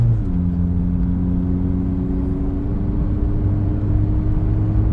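A Honda Jazz RS with double Blackcore PCV parts revs up, its engine note a steady, loud droning hum with rising harmonic lines held throughout, with no talk over it.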